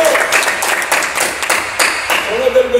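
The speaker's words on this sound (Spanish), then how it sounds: "Denle un aplauso al Señor con todo su corazón" Church congregation clapping for about three seconds in a sermon hall, a loose, uneven rhythm of claps from many hands with some voices mixed in, fairly loud and close.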